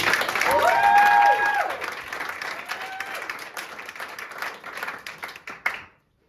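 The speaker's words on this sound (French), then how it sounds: "sous vos applaudissements." Theatre audience applauding at the start of an improvised science-fiction show, loud dense clapping that thins out and fades to silence, with music briefly underneath at first.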